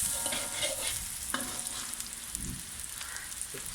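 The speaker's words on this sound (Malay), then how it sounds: "Daun kari. Tumis sehingga kekuningan." Curry leaves sautéing in a hot pan, a continuous crackling sizzle with occasional stirring scrapes, close and steady, with no talking.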